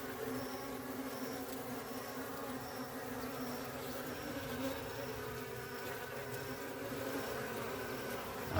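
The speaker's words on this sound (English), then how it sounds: "all version of bees are here trying to get a little bit of the sweetness" Bees and flies swarm around dried sugar and buzz continuously at close range. The drone is steady and layered, with individual insects swelling in and out of the mix.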